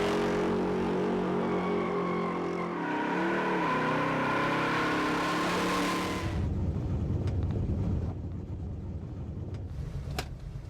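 A 1967 Chevy C10 truck revs hard through a burnout on Toyo tires, loud sustained engine roar with rising pitch for about six seconds, then shifting to a rougher, broadband tire-spinning rumble that continues steadily.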